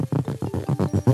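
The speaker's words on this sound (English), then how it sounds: "A paddle crab, for example, sounds like this." Paddle crab making noise underwater, a rapid series of about ten low throbbing pulses in a steady rhythm, close and fairly loud, with no one talking.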